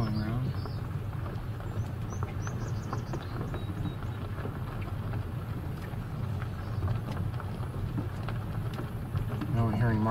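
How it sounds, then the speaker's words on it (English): Marsh wrens calling in a marsh, short faint chattering bursts near the start and end, set against steady wind noise and a low rumbling hum. "Now we're hearing marsh wrens again"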